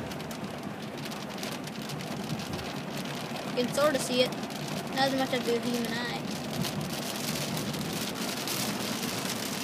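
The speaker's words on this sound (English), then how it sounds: "Okay, it starts raining. Crazy rain." Heavy rain pours steadily during a storm in Maryland, a dense continuous hiss of drops hitting surfaces close by, while people talk over it in the middle of the passage.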